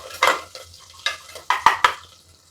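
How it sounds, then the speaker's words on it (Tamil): Cashews fry in a pan for pongal while a utensil stirs them, giving a soft sizzle under a handful of sharp scraping and clinking strokes against the pan, close by and with no talking. "முந்திரி வந்து நல்லா செவக்கிற வரைக்கும் கொஞ்சம் நேரம் வெயிட் பண்ணுங்கள்."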